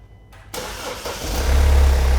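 A car with a weak battery at about 8 volts, boosted by a combined portable jump starter and compressor, cranks briefly and then catches into a loud, steady idle close by, with no talking.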